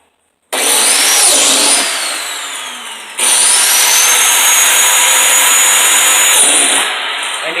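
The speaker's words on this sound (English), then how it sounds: "That's the Dewalt Plate Joiner." DeWalt plate joiner cutting slots in wood for a large sign, motor spinning up loudly twice with a high whine, the blade biting in and then winding down, close and with no talk.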